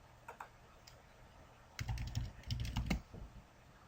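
A computer keyboard is typed on at a login prompt: a few scattered light clicks at first, then a brisker burst of close keystrokes, quiet and with no talking.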